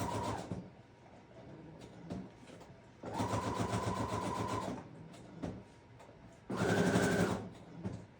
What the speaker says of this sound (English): Now I will sew on the little piece of lace. I'm just sewing around the edges.